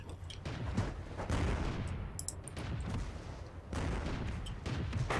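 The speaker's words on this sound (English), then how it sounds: "Or maybe I'll shoot artillery." Artillery fire in the World of Tanks video game, with repeated heavy booming blasts and rumbling explosions that run continuously through the clip, fairly loud with a dense low-end roar and no talking.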